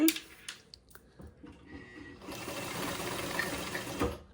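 White 1265 sewing machine stitching a zigzag, a few short clicks and stops, then a steady fast mechanical whirring of needle and motor close up.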